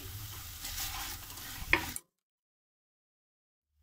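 Capsicum and ginger-garlic paste sizzle and fry in a pan while being stirred, with scraping utensil sounds, ending in a sharp clatter before falling silent.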